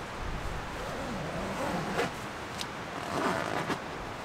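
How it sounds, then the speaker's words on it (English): A tent zipper is pulled closed during a rainstorm, giving a soft rasping zip followed by a few short tugs over steady background hiss from rain and wind. "I can actually zip this up."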